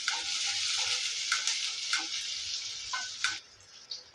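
Onion, garlic, ginger, green chilli and curry leaves sauté in a pan for a vendakkai fry, giving a steady close sizzle with light scraping stirs and a few ticking taps, no talking.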